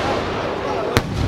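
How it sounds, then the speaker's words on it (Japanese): Fireworks go off at the finale of an evening show in Japan, with a dense crowd murmur throughout and one sharp, close burst near the end. "さあ、花火のフィナーレ始まるよ。"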